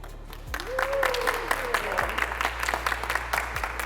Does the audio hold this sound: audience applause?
yes